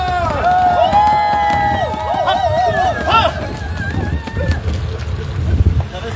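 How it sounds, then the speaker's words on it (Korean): Crowd applause and cheering at an outdoor political campaign rally, a broad rumbling roar of clapping and shouts heard under and after an amplified announcer's voice. "뜨거운 박수와 함성 부탁드립니다."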